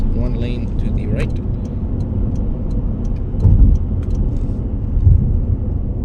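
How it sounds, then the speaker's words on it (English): Steady road and engine rumble from a 2024 Toyota bZ4X electric SUV cruising on a motorway at around 80, heard from inside the cabin as a continuous low drone with a couple of brief swells. "now that we're cruising on the motorway going 80"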